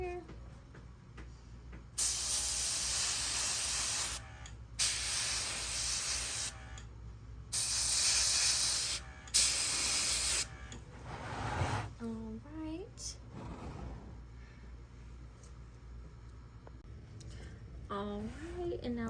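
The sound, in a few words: spray painting a taxidermy squirrel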